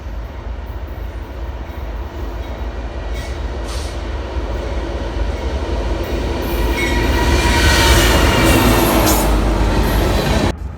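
An AC44C6M rebuilt heritage locomotive rolls past with a loud, continuous rumble of engine and wheels, swelling as the train draws near and staying heavy throughout.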